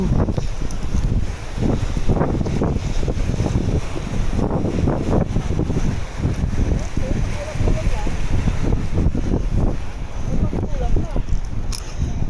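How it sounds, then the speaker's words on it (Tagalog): Strong wind on open grassland by the sea buffets the microphone in a steady roar, with people talking intermittently underneath. "Wala, mahangin masyado."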